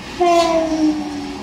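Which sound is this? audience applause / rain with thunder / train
train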